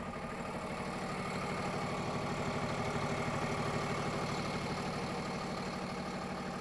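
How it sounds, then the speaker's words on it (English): A Cummins diesel engine idles in a 2022 Renegade Verona LE Super C motorhome, a steady, even low rumble with a faint rhythmic knock, constant and unbroken, with no voices. "This is your diesel engine here. It's the Cummins diesel engine."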